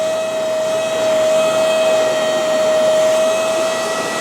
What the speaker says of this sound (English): I'm going to use just the Hoover now, and I'm going to concentrate on where the stains are.